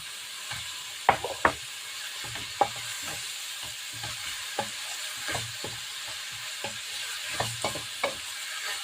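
Eggplant omelette with ground meat frying in a pan, a steady soft sizzle broken by scattered clicks and knocks of stirring or turning, close and quiet, no talking.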